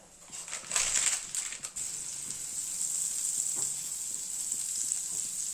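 Butter with a little oil sizzling in a pan for dhaba-style butter paneer, a steady bright frying hiss with a few louder crackles and stirring clatters early on.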